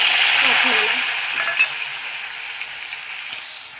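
Ground masala fries and sizzles in an iron kadhai for chicken rassa, a steady bright hiss close by that slowly fades. A few soft stirring clinks sound partway through, and nobody talks.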